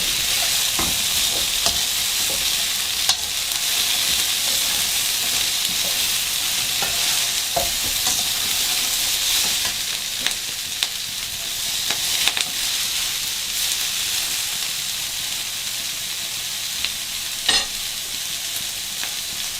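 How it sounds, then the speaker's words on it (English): Mushrooms sizzle steadily in a hot pan while being stirred for fried brown rice with vegetables. The frying hiss is continuous and close, broken by scattered scraping and clacking from the utensil. "Now we're going to throw our mushrooms inside."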